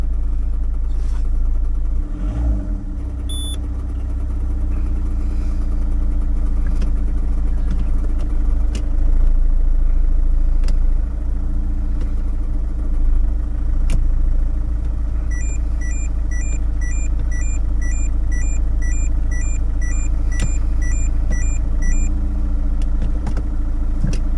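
Peugeot 407 SW car engine running at a steady low idle inside the cabin, a constant deep hum with a brief stir near the start and a series of electronic dashboard beeps partway through.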